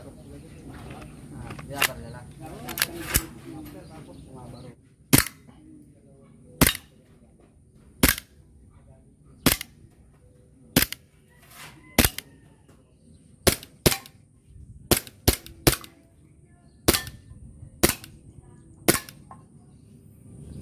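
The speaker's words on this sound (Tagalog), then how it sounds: "Glock 26 with full auto." A WE Glock 26 Gen 4 airsoft pistol fires sharp, loud cracks, single shots and quick clustered bursts spread over about twenty seconds above a low room hum and faint background voices.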